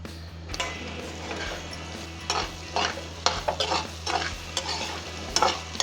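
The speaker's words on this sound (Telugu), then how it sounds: "ఈ దొండకాయలకు సరిపడా కారం వేసి బాగా వేపుకోవాలి" Ivy gourd pieces fry with garlic and chili powder in a pan, a low steady sizzle broken by repeated scraping and clinking stirs of a spatula, close and moderately loud with no talking.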